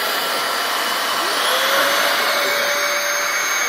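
A Dyson vacuum cleaner runs loud and close with a steady broadband roar and a whining tone that slides into a held pitch partway through. No voices are audible over the motor.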